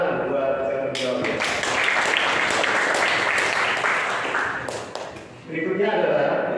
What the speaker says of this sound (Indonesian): Terima kasih tepuk tangan buat yang menjawabnya